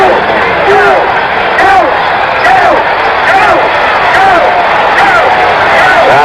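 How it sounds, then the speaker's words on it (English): Crowd at a 1974 World Series baseball game between the Dodgers and A's, a broad roar of many voices chanting and yelling in repeated swells, heard behind a broadcaster's steady commentary. "Crowd yelling, go, go in the background."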